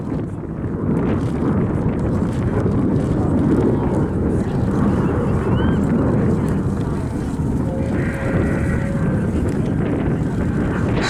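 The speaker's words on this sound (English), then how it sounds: "The power there you hear coming from a single Volvo RM8 turbofan" A SAAB SK-37 Viggen jet with a single Volvo RM8 turbofan and afterburner roars continuously at an airshow, a loud broad rush mixed with wind buffeting while a commentator talks over it.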